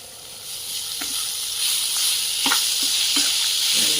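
Grated raw mango and grated coconut hit hot tempering oil for a pickle, setting off a loud, steady hissing sizzle that grows slightly stronger, with a few soft clicks and stirring taps near the pan.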